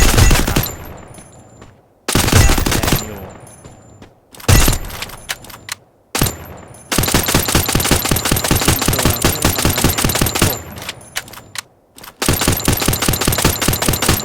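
UMP EVO submachine gun from Free Fire firing loud rapid bursts, several short volleys followed by long sustained automatic strings with brief pauses between them.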